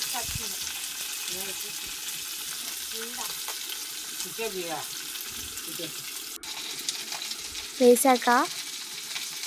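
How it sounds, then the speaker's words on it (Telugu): Green chillies and then ginger frying in hot oil, a steady crackling sizzle running throughout, with someone speaking briefly over it and a few sharper utensil clinks near the end. "నూనెలో వేయించుకొని తర్వాత కాసేపు అయ్యాక అల్లం వేసి వేయించుకోవాలి"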